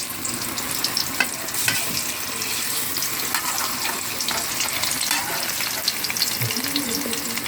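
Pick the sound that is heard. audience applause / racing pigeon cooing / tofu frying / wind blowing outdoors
tofu frying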